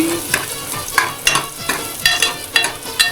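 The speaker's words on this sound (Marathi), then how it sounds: "कांदा चांगला होऊ दे फ्राय थोडासा लसूण पण टाकलेलं आहे त्याच्यामध्ये" Onion and garlic frying in a pan, with a loud, close sizzle and repeated rhythmic scrapes of a spatula stirring roughly every half second.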